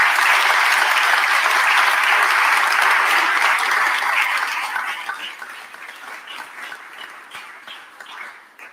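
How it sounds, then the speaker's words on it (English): A crowd applauds at a Philadelphia mayoral event on the end of the DC33 strike, dense clapping that stays loud for several seconds and then thins and fades toward the end. "Let's give them a round of applause."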